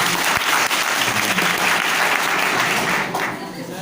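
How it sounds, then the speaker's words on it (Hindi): Loud, dense applause from a school function audience fills the space for a few seconds, a steady wash of clapping that tapers slightly at the end. "एक बार जोरदार तालियों से इनका"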